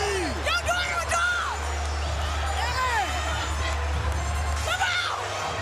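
Arena crowd cheering and shouting after a women's MMA bout stoppage, with Claressa Shields' mother among the fans; a loud, steady roar with whoops and high excited voices running throughout.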